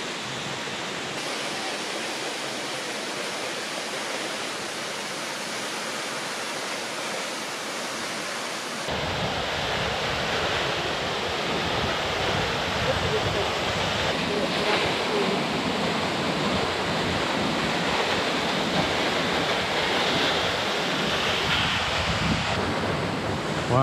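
Waterfalls along the Trail of Ten Falls at Silver Falls, Oregon, give a steady broadband roar of falling water. The rush swells louder partway through and continues unbroken to the end, with no voices over it.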